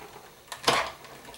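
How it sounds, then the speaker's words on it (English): A hotfoil die cutting machine presses a sheet of card in one brief mechanical burst of clunking and grinding, with a short lead-in knock just before, against quiet room tone. "we'll just run it through the machine to die cut it"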